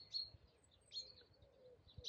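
Faint, quiet bird chirps in short bursts, a few high tweets scattered over soft background ambience.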